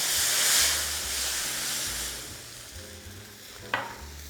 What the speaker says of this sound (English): You just want to scrape these little brown bits off of the bottom of the pan.